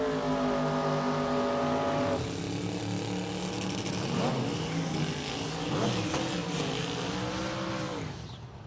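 A drag racing car rolls in to the start line at an index race, a loud, rumbling engine that drops in pitch and then fluctuates with revs, under the announcer's continuous commentary.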